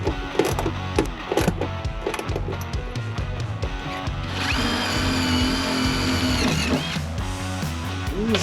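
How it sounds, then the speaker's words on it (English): Power drill with drill bits boring at an awkward angle while working on a Foxbody Mustang, whirring in short bursts then a longer sustained high-pitched run, close up with clanks and handling noise, no talking. "These drill bits are pretty f***ing good."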